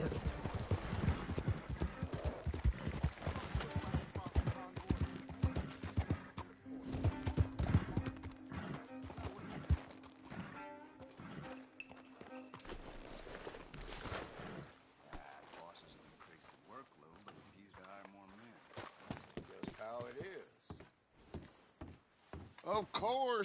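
Horse hooves in a video game clip-clop in a rhythmic trot, with occasional horse snorts, while people talk over them at moderate volume.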